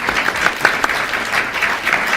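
An audience at an evening lecture-debate breaks into sustained, dense applause, steady clapping from many hands filling the room.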